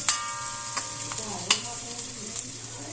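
Chili and turmeric powder tipped into hot oil and stirred in a pan for a Kerala okra stir-fry, giving a steady close sizzle broken by a few sharp scraping strokes of the spoon, with no talking.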